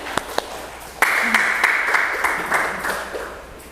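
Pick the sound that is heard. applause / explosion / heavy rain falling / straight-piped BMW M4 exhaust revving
applause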